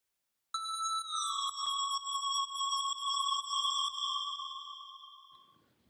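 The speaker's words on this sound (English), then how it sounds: "This next element I'm going to go over in the drop is this kind of background support lead that I used." A bright synth lead patch built in Sylenth1 holds one sustained tone with a slight pitch dip near the start and a few faint clicks, then slowly fades out alone.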